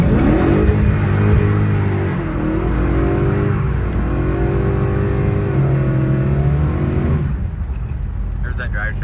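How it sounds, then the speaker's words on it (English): A Coyote-swapped car under way, its engine droning loud and close with shifting revs and a drivetrain hum that fades out near the end; a voice talks over it. "There's that drive shaft vibration."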